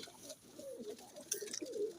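Pigeons coo softly nearby in low, throaty bursts, with a few light flutters and rustles in between.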